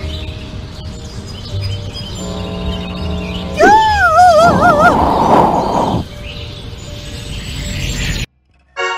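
Birds in the video game Scary Teacher 3D chirp and warble loudly and close by. A run of wavering tweets rises over a busy game background and then breaks off abruptly.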